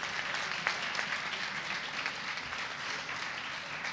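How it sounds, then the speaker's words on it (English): A hall audience claps steadily for a municipal councillor at a negotiation-contest final in Issoudun, producing a continuous, moderately loud patter of applause with no speech over it. "Applaudissez-la, s'il vous plaît"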